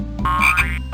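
Cartoon frog croak from a 1995 PC jungle exploration game for children, one short, loud, buzzy croak standing alone with nothing around it.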